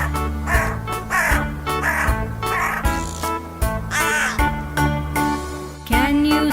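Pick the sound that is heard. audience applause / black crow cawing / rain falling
black crow cawing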